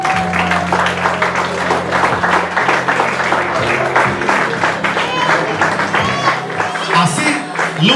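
Applause from guests at a quinceañera celebration as the birthday girl appears, sustained crowd clapping over background music with a steady hum, voices and cheers rising near the end.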